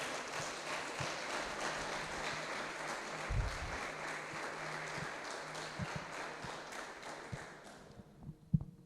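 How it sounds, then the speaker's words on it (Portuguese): A church congregation applauds throughout a service, a dense, sustained wash of clapping from many hands that fades out near the end, with a few louder thumps scattered through. "Você pode aplaudir ao Senhor?"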